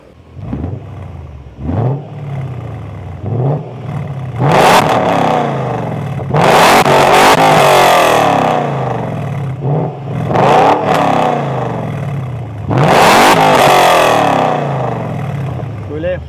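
A BMW Z8 (E52) sports car engine starts and revs in repeated loud bursts, rising and falling with rumbling, crackling and popping between blips, close by.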